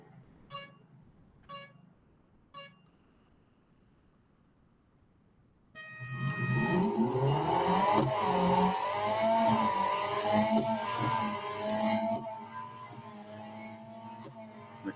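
Engine of a 2022 Chevrolet C8 Z06 in a drag race in the video game Real Racing 3: three countdown beeps, then a loud roar that climbs through the revs with gear shifts and stays strong to the end, without speech.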